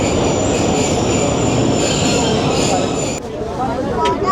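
Train departing Golra Sharif junction, a loud close rumble of rolling wheels with metallic squeal and clatter, easing slightly near the end.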